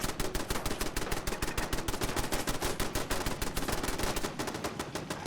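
Settlement turrets in Fallout 4 fire a continuous, dense stream of rapid automatic shots. The bursts are loud and close and run the whole time without a pause.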